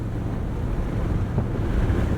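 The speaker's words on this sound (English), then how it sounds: "See what I mean about how windy it is today?" Loud, steady wind buffets the microphone from an open-top Ferrari SF90 Spider on a windy day, a continuous low roar with no speech.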